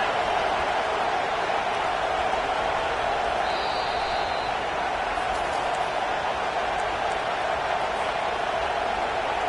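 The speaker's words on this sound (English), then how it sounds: "Now the crowd responding in the red zone, trying to help this defense." A stadium crowd in an NCAA football video game keeps up a steady, continuous roar while the defense is in the red zone late in the game, with no clear peaks.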